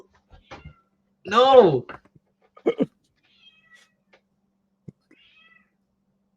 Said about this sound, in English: Yeah, you got to let the cat in